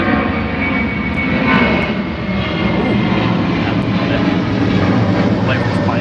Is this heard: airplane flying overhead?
yes